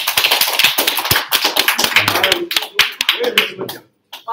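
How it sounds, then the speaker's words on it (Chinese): An audience at a Paris conference claps in brisk, uneven bursts of sharp hand claps, fairly close and loud, thinning out toward the end with a short quiet gap. "大家给他鼓掌鼓掌"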